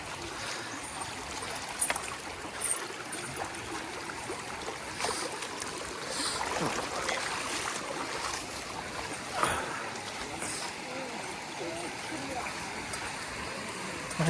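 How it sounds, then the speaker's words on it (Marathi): Stream water flowing steadily at a river crossing along the Narmada, a continuous broadband rush and trickle, with a few splashes and scattered knocks over the top. "मस्त पाणी येतं वरून, आपल्याला ते पार करून जावं लागतं."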